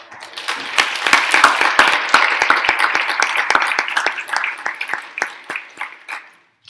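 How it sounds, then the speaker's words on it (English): An audience claps for student speakers at an evening essay event, dense applause swelling quickly, holding steady for several seconds, then thinning out to a few last claps. "Big round of applause for them."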